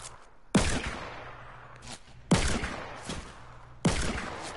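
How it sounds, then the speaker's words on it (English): Three loud gunshot blasts in a video game ring out at steady intervals of about one and a half to two seconds, each a sharp close crack with a decaying tail, while soft background game noise fills the gaps. "Am I even shooting close to you?"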